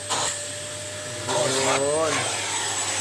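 Polti vacuum cleaner running in a product demo, a steady close whine with a rising, wavering motor pitch as it works, while a person talks over it throughout.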